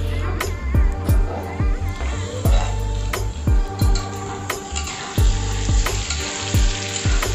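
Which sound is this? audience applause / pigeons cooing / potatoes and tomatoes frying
potatoes and tomatoes frying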